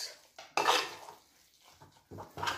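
A spoon works squash and carrot okoy batter around a bowl, giving a few close, loud bursts of scraping and clinking against the sides, with quieter stirring between them.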